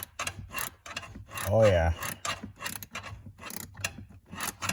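Metal bolt being started by hand into the blend door actuator mount of a 2013 Ford Explorer, giving close mechanical clicks, ratcheting and rubbing, with brief talk in between.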